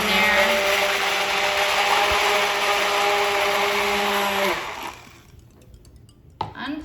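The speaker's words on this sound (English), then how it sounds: "how I clean my immersion blender is I get really hot water" An immersion blender used for cold process soap making whirs steadily in a container of hot water with a loud motor hum, then cuts off and leaves quiet rustling and a clunk.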